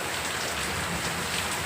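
Heavy rain pours steadily in a village, falling on a nearby farm plot that has filled with water; a dense, even hiss with no pauses and no voices.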